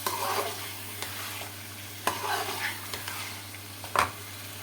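Fish frying in a pan, with a low steady sizzle and scattered stirring scrapes and clinks; one sharper knock of utensil on pan stands out near the end.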